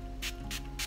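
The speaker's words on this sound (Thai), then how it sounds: "อันเนี้ยฉีดเลยเป็นสเปรย์" A facial mist spray bottle, a skincare product for men, gives three short, evenly spaced hissing spritzes close by, set against a steady low background hum.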